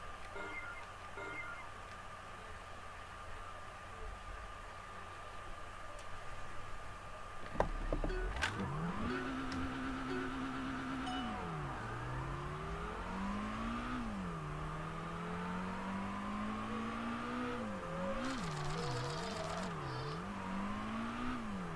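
A car engine in the Kaido Racer 2 video game drones steadily, then revs up and down repeatedly while drifting, a continuous whining tone that rises and falls at moderate volume.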